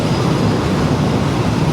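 A train rolls steadily through a small station in Thailand, making a continuous loud low rumble with dense broadband rail noise and no clear breaks or voices.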